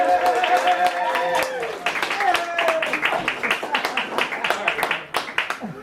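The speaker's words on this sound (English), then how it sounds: "Give her a round of applause." An audience at a talk claps and cheers for a speaker being introduced, a dense patter of hands mixed with voices calling out and talking over it, moderately loud.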